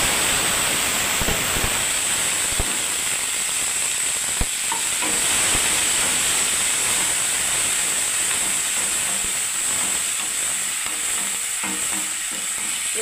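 Onion paste dropped into hot oil in a pan, giving a loud, steady sizzle and hiss that runs throughout, with a few soft knocks and stirring sounds near the start and no talk.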